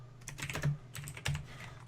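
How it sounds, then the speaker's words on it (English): Quick bursts of typing on a computer keyboard, close and fairly soft, with clustered key clicks and short pauses between runs. "Just me typing"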